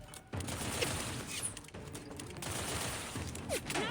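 Gunfire in The Outer Worlds 2, fairly quiet rapid volleys of shots crackling in bursts over a few seconds of combat noise.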